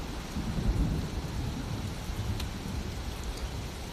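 Heavy rain pours down in a dense, steady hiss while thunder rumbles low underneath, a continuous storm soundscape with no voices.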